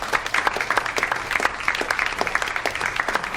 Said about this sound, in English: A warm round of applause for Leslie Bampton there.